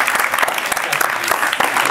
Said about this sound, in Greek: Ναι, θέλει, χειροκρότημα αυτό.